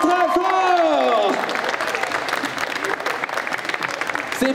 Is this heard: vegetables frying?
no